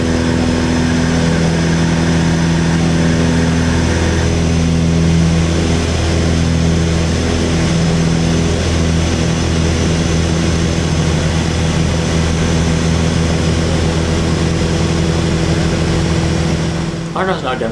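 Twin piston engines of a Piper Seneca droning steadily from inside the cabin, a loud constant propeller hum with power being added to one engine during a simulated engine failure.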